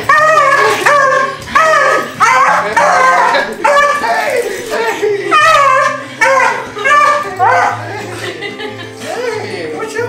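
Excited dog greeting its returning owner with a run of yips, whimpers and short barks in rapid bursts, close and loud, mixed with a person's excited talking and laughter.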